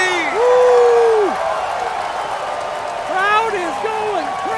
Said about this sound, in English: Crowd is going crazy.